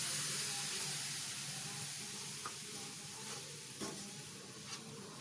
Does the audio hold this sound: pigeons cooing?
no